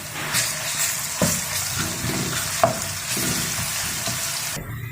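Oil sizzles steadily in a pan while garlic fries and is stirred, with a few scraping clinks and a brief pause near the end.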